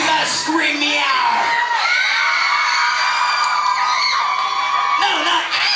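A loud concert crowd at The Troubadour in 1993 screams and shouts continuously, high-pitched voices blending into a sustained roar with a few brief dips.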